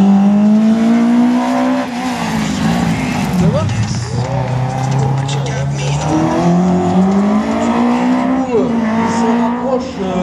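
A Citroën Saxo race car in a slalom at Agon-Coutainville runs through the gears, its engine rising and falling with each shift as it works through the course. The loud, close engine note continues without a break, and a commentator speaks over it.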